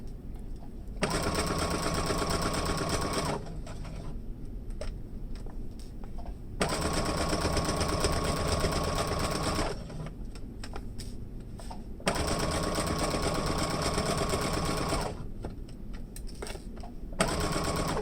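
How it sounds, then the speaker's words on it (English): A sewing machine stitching a fabric face mask, running in three long steady bursts separated by brief pauses, close and clear with no talking. "So I'm going to put my needle down, presser foot down, and start sewing."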